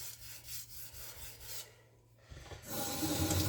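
A knife edge rubbing on a coarse 300-grit sharpening stone, a steady rasping scrape that pauses briefly before returning louder and closer.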